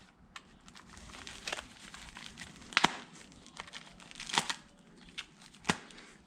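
Packing tape ripping off a cardboard box during an unboxing: several sharp, crackly tearing bursts at irregular intervals, with softer crinkling and rustling between them, fairly close.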